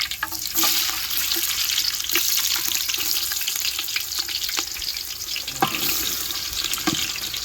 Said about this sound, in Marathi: तेल गरम झालं आता कांदा टाकून घ्यायचा बघा